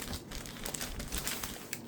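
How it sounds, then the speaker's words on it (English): Plastic packaging crinkles and rustles as a Logitech G515 Lightspeed TKL wireless gaming keyboard is unwrapped, a close, fairly soft, continuous crackling with a few sharper crinkles and no talking. "let's unwrap the stuff"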